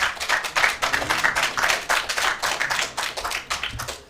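At a university law quiz contest, an audience claps in a brisk, dense burst of applause that holds steady for several seconds, loud and close, with no talk over it.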